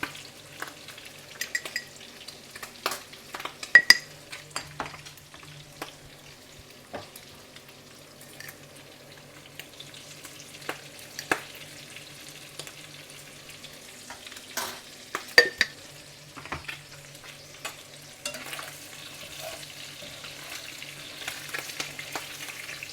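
Fresh pork frying with salt, pepper and onion, a soft continuous sizzle under irregular scrapes and clinks as a utensil stirs the meat in the pan, close and fairly quiet, with no talking.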